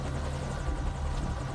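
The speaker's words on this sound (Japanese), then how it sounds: "もう来てますね、ヘリが 来てますね" A helicopter arrives in Metal Gear Solid 5 gameplay, a dense, steady rotor roar that fills the whole moment, loud and continuous with no voices over it.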